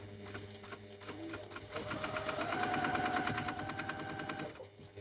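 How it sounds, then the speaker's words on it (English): A sewing machine runs a steady quarter-inch seam along quilt blocks, its rapid even needle beat rising and holding close and loud for several seconds before stopping, with no talk over it. "I'm just going to sew down one side with a 1/4 inch seam allowance."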